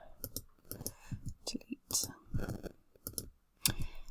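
A computer keyboard's backspace key is tapped repeatedly while editing a Microsoft Word resume template, a quick run of close, sharp clicks with faint whispery noise between them.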